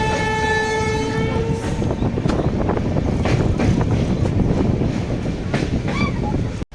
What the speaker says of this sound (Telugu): ట్రైన్ అయితే బరాబర్ 110 స్పీడ్ అయితే మెయింటైన్ చేస్తుంది